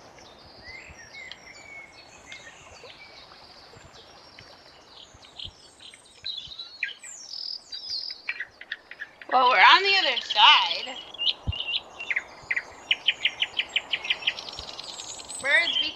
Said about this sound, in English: Birds, be quiet.